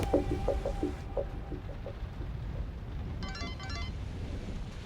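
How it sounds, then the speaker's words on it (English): A phone rings in a Supernatural season 6 episode, 'Mannequin 3: The Reckoning', heard as two short trilling bursts late in the clip over a steady hiss of background noise. "Answer the phone."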